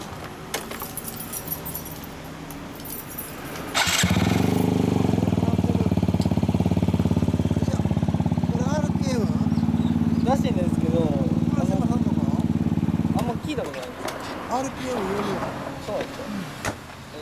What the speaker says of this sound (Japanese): ほんならウィズウィンのエンジンを聞かせてもらえる？